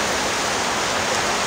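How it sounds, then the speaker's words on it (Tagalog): Floodwater after rain pours into a salon, a steady broadband rush of flowing water with no breaks, close and fairly loud, with no voices. "yung tubig na pumapasok dito sa salon"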